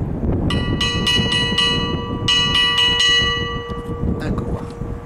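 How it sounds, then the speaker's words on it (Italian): A church bell at San Sisto in Piacenza, its clapper missing, is tapped with a small pebble, giving several bright metallic strikes in an irregular rhythm, each ringing on over a steady background hum. "Sentiamo comunque il suono, lo facciamo con un sassolino perché purtroppo il battaglio non c'è."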